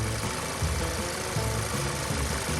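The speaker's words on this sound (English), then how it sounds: "And the car is now on and running." A turbocharged car's engine idles steadily just after a silicone turbo inlet hose install, a continuous low rumble with a faint rhythmic pulsing, fairly close and alone without voices.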